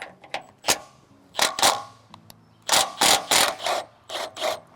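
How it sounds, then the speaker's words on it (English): Wrench ratcheting on a sawmill during repairs, a close series of sharp clicking bursts in uneven short runs separated by brief pauses, with no talk. "Can I get a wrench there?"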